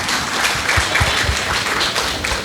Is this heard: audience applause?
yes